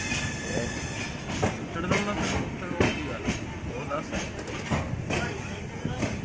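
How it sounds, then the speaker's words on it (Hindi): A passenger train rolls past on rail tracks in India, a steady rumble broken by rhythmic clickety-clack wheel beats and sharp metallic clatters, heard from close by at moderate volume. "ट्रेन जा रही है सर"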